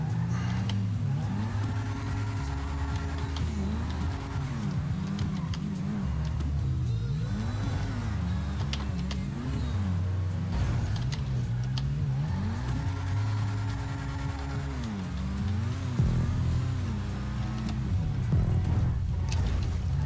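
The RE7B supercar's engine in Grand Theft Auto V, revving up and down in repeated waves through gear changes as it races through tight corners, a steady close roar with no talk.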